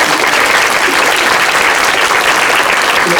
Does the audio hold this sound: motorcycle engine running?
no